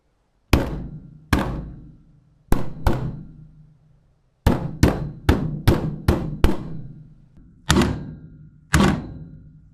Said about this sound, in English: At last, the hammer was able to do some damage.